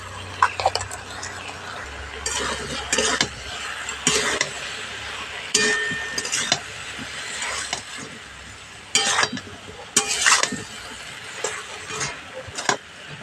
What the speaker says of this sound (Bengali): শাকটা দিয়ে সবজির সঙ্গে খুব ভালো করে একটু নাড়াচাড়া করে নিতে হবে